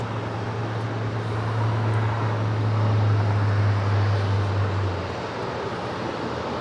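An Asiana Airbus A380 taxis along a taxiway at Los Angeles International Airport, close by, giving a loud, steady jet engine rumble and broad roar with a low hum that fades after a few seconds, with no talk.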